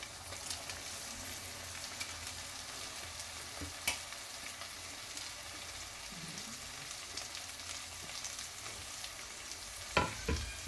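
Bitter gourd pieces fry in hot oil in a pan, giving a steady low sizzle throughout with a few sharper clatters of stirring near the start and end.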